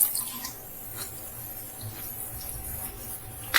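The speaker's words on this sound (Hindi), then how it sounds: "इसमें अब हम थोड़ा पानी ऐड कर देते हैं।" Water poured into a cooking pot of matar chole in a home kitchen, a soft continuous pouring hiss with a few faint clinks, no talking.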